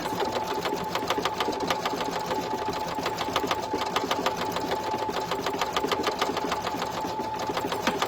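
An embroidery-style sewing machine stitching in the hoop steadily, a fast even mechanical rattle running nonstop at close range with no talk.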